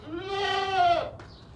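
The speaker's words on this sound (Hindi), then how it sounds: "हर तरह से ज़बरदस्त ताकत वाला, चौड़ी गर्दन वाला, चौड़े सीने वाला बकरा" A strong, broad-necked, broad-chested male goat lets out a single loud, close bleat lasting about a second, with a wavering tone that breaks off at the end.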